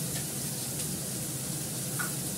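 Onion and ginger paste sautés in a pan with a faint, even sizzle that holds steady throughout. There is no voice, and only a couple of soft clinks stand out briefly above the hiss.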